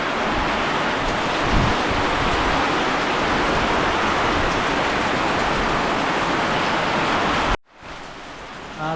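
A heavy monsoon downpour roars as a dense, loud, unbroken hiss close by, cutting off abruptly near the end before resuming.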